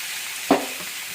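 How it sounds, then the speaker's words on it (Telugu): Peeled dosakaya cucumber pieces are tossed into a frying pan and stirred once, giving a single short scrape and sizzle over a quiet kitchen background. "ఇప్పుడు మనం కట్ చేసుకున్న ఈ పొట్టు దోసకాయలు కూడా వేసేద్దాము. వేసి మంచిగా ఇలాగా కలిగి పెట్టుకుంటూ"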